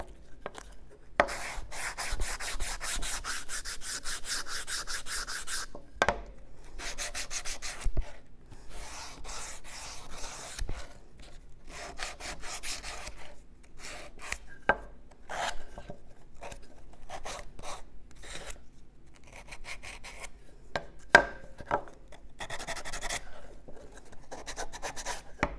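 Repeated rough scraping strokes of sandpaper rubbing on wood, irregular bursts of varying length, fairly close and moderately quiet.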